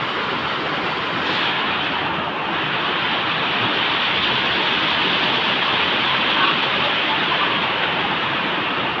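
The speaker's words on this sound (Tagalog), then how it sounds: "Lakas ng ang ilog." Floodwater from the mountain surges through the river at Camaya, a steady, loud, broadband roar that stays constant throughout with no voices.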